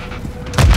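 Semtex grenade blast in Modern Warfare 3 multiplayer, a single sudden booming explosion bursting in after a half second of low game ambience, loud and close.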